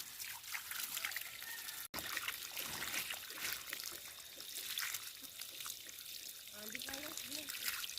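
Cold water from a pump motor trickling and splashing over hands being washed outdoors, a continuous close pour with small drips and splashes, and faint speech or voices mixed in.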